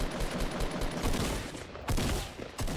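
Rapid bursts of gunfire from Fortnite, with several close, loud volleys rattling in quick succession.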